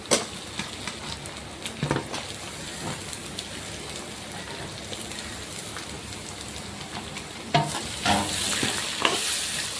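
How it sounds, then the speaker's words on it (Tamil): Shallots and garlic sizzle in oil in a pan on the flame for a brinjal kara kuzhambu, a steady broadband crackle with occasional louder stirring bursts, close and alone without speech. "பொருள் நேரமாக நம்ம ஃப்ளேமில் வச்சு வதக்கிறோம்"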